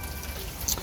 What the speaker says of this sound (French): Il commence à pleuvoir sérieusement.